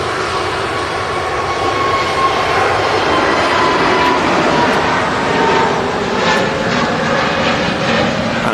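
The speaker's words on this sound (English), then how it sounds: "And it's a British Airways A380." A British Airways Airbus A380 passes overhead as a steady, loud roar of jet engines that holds for several seconds with a slight swell in the middle and no voices.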